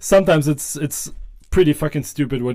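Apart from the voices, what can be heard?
None of the usual background noises is heard.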